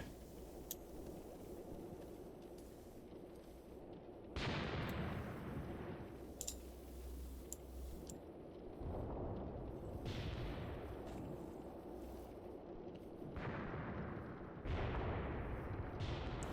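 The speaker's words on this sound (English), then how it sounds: "High velocity round coming in from a gun over there." A high-velocity gun round incoming in the Graviteam Tactics war game: several sharp, loud cracks and booms burst out one after another, each trailing into a rumbling decay over a steady low background roar.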